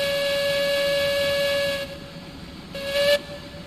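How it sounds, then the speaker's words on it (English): A passing train sounds a steady, piercing steam whistle for nearly two seconds. It breaks off, then gives a short second blast over a low rumbling background. "I hear a train going by"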